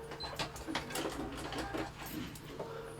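Sewing machine backstitching, a soft rapid mechanical whirring and ticking of the needle with a few brief pauses and clicks, close and fairly quiet.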